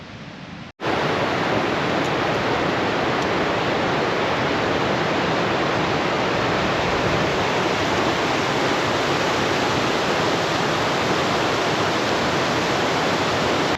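The Gulkana River rushes beneath a suspension bridge on the way to Gulkana Glacier in Alaska, making a loud, steady broadband roar of flowing water that starts after a brief cut and continues unbroken, with no voices.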